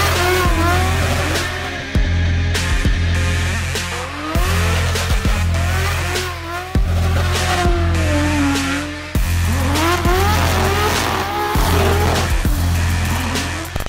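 A BMW E30 with a turbocharged M3 engine revs hard and spins its wheels, loud engine roar rising and falling through repeated bursts of acceleration with tire noise, close and continuous.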